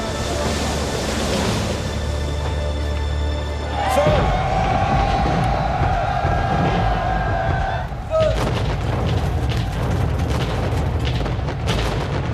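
Naval cannon fire from the Battle of Trafalgar, 1805: loud, continuous booming blasts and rumbling roar from sailing warships, with fresh heavy volleys breaking in partway through.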